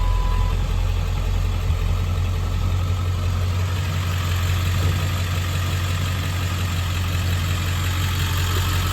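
Ford 7.3 Powerstroke Super Duty diesel with a Holy Dog tune and aftermarket exhaust idles steadily, a loud, close, continuous low rumble with a constant engine drone and no talking throughout.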